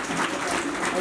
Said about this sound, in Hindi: तालियां जो है वो बजती रहनी चाहिए